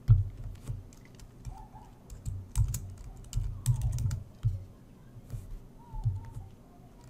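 Fingers type a name on a computer keyboard in quick, uneven bursts of close, clicky keystrokes with brief pauses between groups; no speech.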